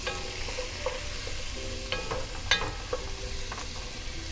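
Diced sweet yellow onion stirred in hot bacon fat for corn chowder, a low steady sizzle with a few scraping clicks of a utensil against the pan, close and quiet throughout.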